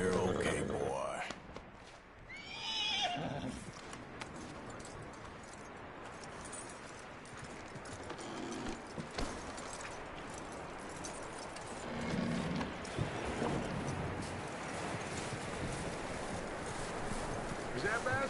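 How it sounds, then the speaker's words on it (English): Horse hooves clip-clopping in Red Dead Redemption 2, soft, uneven footfalls under quiet in-game talk, with background rustle and no clear neigh. "That looks like a decent horse."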